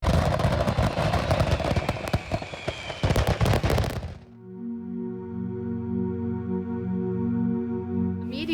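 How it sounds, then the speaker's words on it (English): Fireworks going off prematurely near a delivery truck at July 4 festivities on a boardwalk, a dense volley of loud cracking, booming blasts for about four seconds before they cut off and a steady droning hum takes over. "At the truck out there were huge explosions all around the truck and about the truck."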